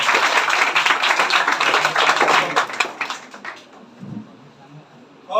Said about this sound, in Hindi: दिव्यांशु के लिए जोरदार ताली बजाएं।